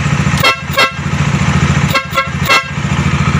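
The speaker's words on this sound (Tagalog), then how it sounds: "Ito yung tunog ng busina niya." Loud horn on a Kawasaki Dominar 400 motorcycle, fitted as a louder replacement, honked as two double blasts close to the listener with a steady idling hum underneath.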